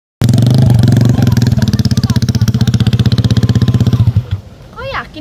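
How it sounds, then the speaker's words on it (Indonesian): A motorcycle fitted with a loud racing exhaust starts up close by and revs hard in a rapid, rattling pulse for several seconds, then cuts off as a voice speaks over the tail end. "Kau yakin mau bawa motor ini ke arah kota?"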